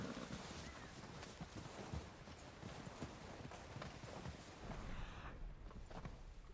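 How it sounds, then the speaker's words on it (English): Horse hooves clip-clop steadily in Red Dead Redemption 2, a rhythmic trotting gait at moderate distance over wind and ambient outdoor noise, fading slightly toward the end. "I think I hear a horse"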